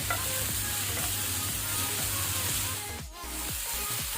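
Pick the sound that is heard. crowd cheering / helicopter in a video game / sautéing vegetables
sautéing vegetables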